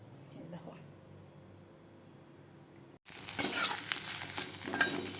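Papad frying in hot oil, a faint murmur for three seconds and then a sudden loud, crackling sizzle with clinks of utensils and a voice talking underneath.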